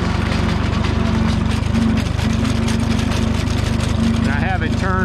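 Minneapolis Moline tractor running at low RPM while a sickle bar mower cuts through thick growth, a loud, steady engine drone with the mower chattering close by.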